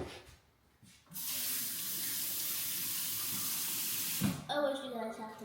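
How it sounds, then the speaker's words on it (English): A water tap runs for about three seconds while hands are washed, a bright, steady hiss that stops abruptly before a voice starts speaking. "I'm going to go wash my hands."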